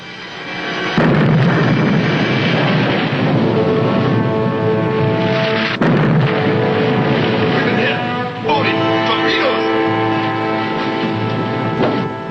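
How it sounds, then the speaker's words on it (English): Torpedoes striking an escort aircraft carrier in a World War II submarine drama: a sustained roaring blast with heavy rumbling that cuts sharply near the middle, then swells again, loud and continuous under faint voices. "Two hits, number 1 and 4 torpedoes."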